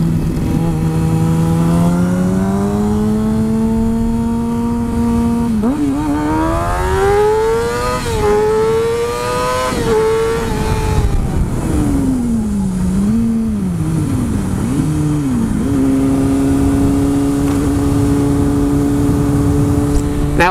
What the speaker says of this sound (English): The bike was just loud for a moment